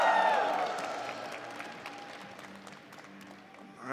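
A crowd at the Evo 2025 fighting game tournament applauds and cheers, a loud burst of clapping at the start that fades into scattered claps and murmur.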